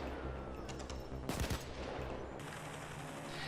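Short burst of AK.762 rifle fire in Payday 2, a single loud volley of rapid shots in the middle of a steady hum of game ambience.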